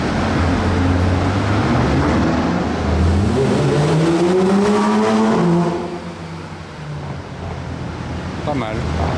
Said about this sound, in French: j'étais prêt à tout sauf à voir cette Bugatti Chiron ce soir